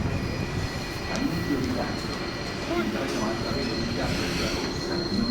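An older train rumbles steadily along the tracks between Roma Termini and Roma Tiburtina, with high metallic wheel squeals ringing over the continuous low roar and faint voices in the background.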